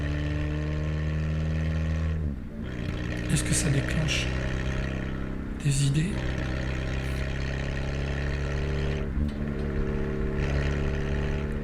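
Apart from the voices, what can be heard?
car passing by outside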